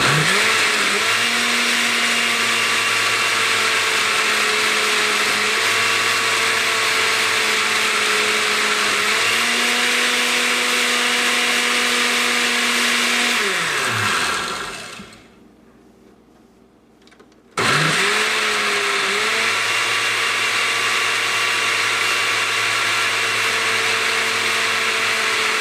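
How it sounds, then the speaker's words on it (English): A kitchen blender whirs loudly while blending kimchi ingredients, its motor droning steadily with slight pitch shifts, then cutting out for a brief pause before starting up again. "So you keep pulsing this or blending it until it's well"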